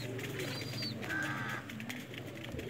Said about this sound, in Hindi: जोड़े वाले कबूतर पी रहे